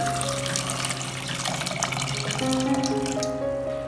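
Water pours from a tap into a pan of cut potato pieces in a home kitchen, a steady continuous splashing and filling sound beneath light background music tones.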